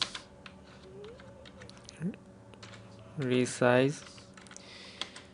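Quiet, sparse keystrokes on a computer keyboard as text is typed into a photo resizer program, with a voice talking throughout.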